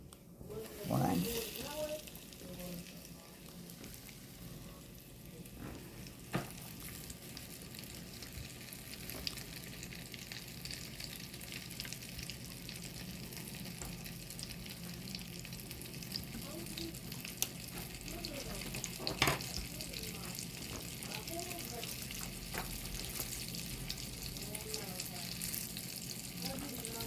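Breaded turkey thighs fry in a skillet with a quiet, steady sizzle and crackle that runs throughout, overlaid by occasional faint knocks and clatter, with some brief talk early on.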